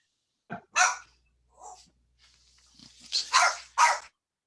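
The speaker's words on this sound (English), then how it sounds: "Oh, somebody's got a dog." A dog barks several times at a distance, in short, separate yelps and barks spread across a few seconds, with quiet between them and no talking.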